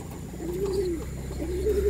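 Pigeons being trained give soft, low, rolling coos, two drawn-out calls close and clear over a faint steady background hum.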